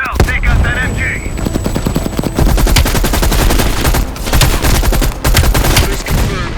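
Machine gun fire in the Call of Duty: Black Ops Cold War campaign, loud rapid bursts of gunshots in dense sustained volleys with booming impacts, briefly under a voice at the start.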